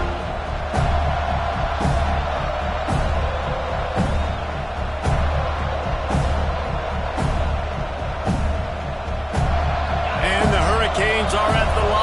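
A dense home crowd roars throughout a Miami rivalry football game, a steady wall of noise punctuated by regular thumping beats, with a commentator talking over it.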